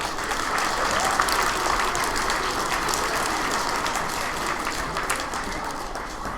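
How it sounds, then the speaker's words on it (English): An audience of schoolchildren at a spelling bee claps steadily throughout, a dense, even wash of many hands that holds a constant level without a break. "please give yourselves a round of applause"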